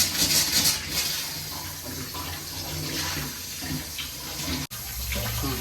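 Water pours steadily from a household tap that has just been cleaned of clogging, a close, continuous splashing rush that lasts throughout with no talk.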